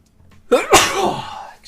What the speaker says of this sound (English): I'm freaking sneezing all over the place.